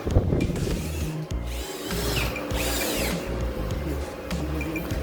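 A power drill whines and ratchets as it drives screws into a wooden table stand, in close, loud bursts with brief pauses between them.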